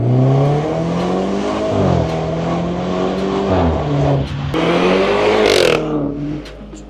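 A car engine with a stage 1 remap revs loudly and repeatedly at a car show, pitch climbing and falling through several throttle blips close by, ending with a sharp high rev.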